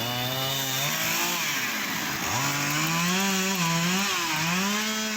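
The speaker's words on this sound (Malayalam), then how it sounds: "അങ്കമാലി ഫയർഫോഴ്സ് എത്തി മരം മുറിച്ചു മാറ്റി" A loud chainsaw whines and bogs down as it cuts up a fallen tree lying on a parked car, its pitch dipping and rising through repeated cuts.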